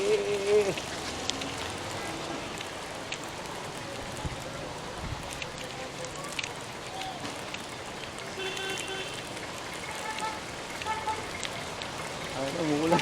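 Steady rain patters across a surface throughout, a dense even hiss with occasional faint voices in the background.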